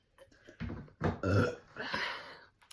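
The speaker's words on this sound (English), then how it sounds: "My burps taste like peanut butter." A single loud, drawn-out burp after chugging a Bang energy drink, rising in two or three voiced swells over about two seconds, close and unaccompanied by talk.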